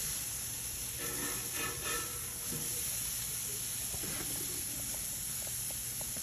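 Flipped burgers sizzle in a pan, a steady bright hiss with a few scraping and tapping sounds near the start and faint crackles later.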